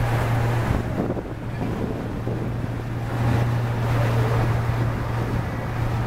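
Boat on open sea with strong wind buffeting the microphone, a constant low engine hum under rushing wind and wave noise.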